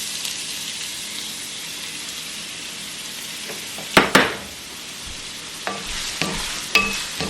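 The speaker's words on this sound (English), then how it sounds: "So oil is hot, so I'm gonna fry this onion first." Chopped onion sizzles steadily in hot olive oil in a cast iron pan, a continuous bright hiss broken by a few louder bursts and scrapes as it is stirred.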